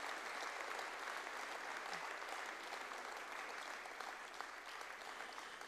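Steady applause from a concert audience at a town wind band's New Year concert, a dense continuous patter of clapping hands lasting throughout at an even level.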